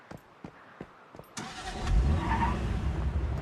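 Several sharp clicks come first, then a car engine in the video game Once Human cranks and catches, settling into a loud, rumbling idle that carries on to the end, with no voices.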